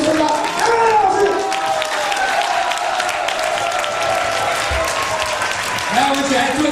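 A large audience claps to welcome a speaker at a seminar, a loud sustained wash of applause underneath an amplified voice and music.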